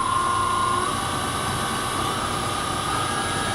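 A wood lathe runs with its motor turned up, a steady mechanical whine and hum with a faint tonal rise, continuous and fairly close, no speech.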